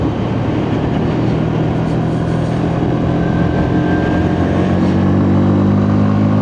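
A Lexmoto Detroit motorcycle accelerates steadily on a wet, drizzly road, its engine droning loud and close with constant wind and road noise throughout.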